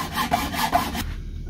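A saw rasps back and forth through a bukkehorn clamped in a bench vise, with about four rough, steady strokes close up before the cut stops abruptly.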